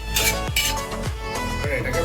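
A spatula scrapes and knocks against a pan while mixing fried rice with fried egg, beans, carrots and peas, with rhythmic metallic taps roughly every half second over a low kitchen hum.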